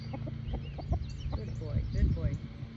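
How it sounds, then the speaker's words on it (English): A small young rooster clucks in a few short, soft bursts close by, over a steady low hum, with a little background movement. "My little rooster. My little baby rooster."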